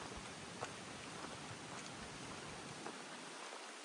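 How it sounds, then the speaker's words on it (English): Steady, soft rain hiss fills the background on the Appalachian Trail, with a few faint drop ticks scattered throughout and no voices. "You can hear it raining."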